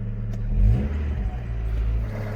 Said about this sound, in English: Starts as it should do and sounds quite nice. Actually sounds very nice. Got a lovely kind of raspy exhaust tone to it.